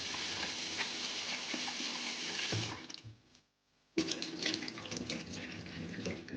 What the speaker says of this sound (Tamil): அதுக்கு உளுந்தையும் நல்லா கழுவணும்.